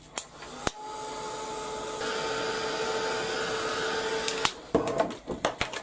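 A hair dryer blows steadily for several seconds to dry a watercolour painting, a loud continuous whir that shifts slightly in pitch midway, bracketed by brief clicks and handling knocks as it switches on and off.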